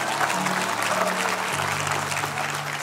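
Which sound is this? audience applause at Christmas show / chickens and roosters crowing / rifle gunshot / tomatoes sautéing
audience applause at Christmas show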